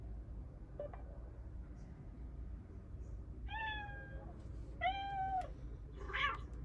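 A Mercedes S-Class voice assistant plays a recorded cat meowing: two clear rising-falling meows and a shorter third one, fairly quiet over a low cabin hum.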